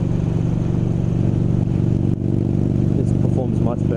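Yamaha Bolt motorcycle fitted with a Cobra exhaust, idling with a steady, loud low rumble throughout, with faint higher chirps near the end.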